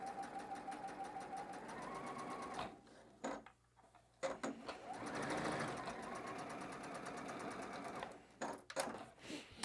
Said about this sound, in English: I'm just going to come on over and sew these seams together.